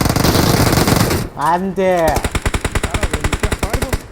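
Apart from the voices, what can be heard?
gunfire in a video game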